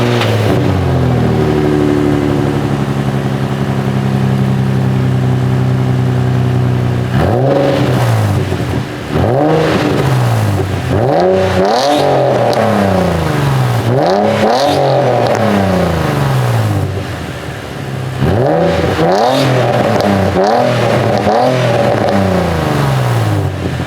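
Before an exhaust swap, an Infiniti G35 / Nissan 350Z idles steadily, then is revved repeatedly in sharp bursts, each rev climbing and falling, loud and close with no talk.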